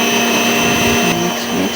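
Electric mixer beating chocolate cake batter, a loud, steady whine that runs the whole time with a slight dip in pitch near the end.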